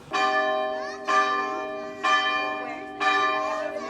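Bell ringing at a hilltop castle in Portugal: four loud, resonant strikes about a second apart, each ringing on with a long metallic hum that fades before the next, with no talking.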